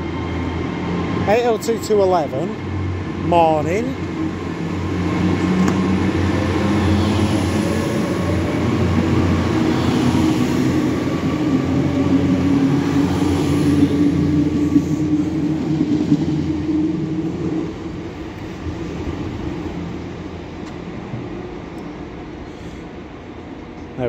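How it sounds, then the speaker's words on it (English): A tram at Manchester Victoria station, heading up to Rochdale, rumbles and hums steadily through the platform area with faint squeals, while someone speaks nearby over the running noise. "Tram going up to Rochdale again."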